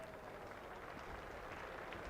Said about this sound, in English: Kind of an applause that'll hurt if you're in the Surrey changing room